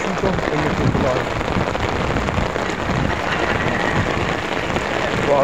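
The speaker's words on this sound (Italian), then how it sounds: "Qua a Bari sta facendo tanta pioggia." Heavy rain pours steadily over Bari, a dense, continuous broadband hiss of drops hitting surfaces with no breaks, loud and close throughout.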